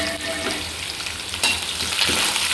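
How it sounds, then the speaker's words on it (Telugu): Cumin, mustard seeds, curry leaves and five or six dried red chillies fry in hot oil as a tempering for amaranth leaf stir-fry, giving a steady close crackle and sizzle with a sharp pop midway, and no talking. "ఇది బాగా వేయించుకోవాలండి."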